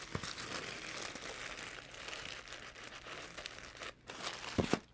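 Wrapping paper crinkles and rustles close by in soft, uneven bursts, with a few sharp tape pulls and crackles near the end, the whole thing fairly quiet.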